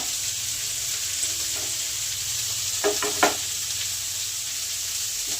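Carrot and cabbage stir-frying in a pan for atta Maggi, a steady broadband sizzle with a low hum beneath and a couple of brief stirring knocks near the middle.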